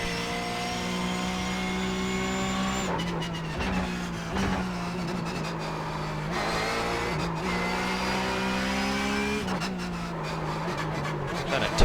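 A Porsche 911 GT3 Cup engine in the iRacing sim, revving hard and loud as it pulls through the gears, the pitch climbing and then dropping sharply at each shift, with faint tyre noise.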